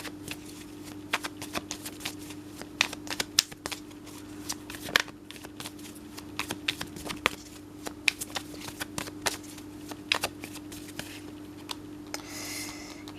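Tarot cards are shuffled and drawn during a Sagittarius love reading, giving a steady run of soft, quick card riffles and flicks at close range with no voices, over a low constant hum.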